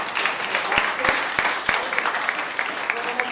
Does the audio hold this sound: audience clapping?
yes